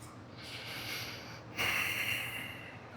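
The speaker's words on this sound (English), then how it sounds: "slowly exhale through both nostrils now" A slow, steady exhale through both nostrils during a breathing practice, close and soft, swelling to a stronger breathy rush near the end, with no talking.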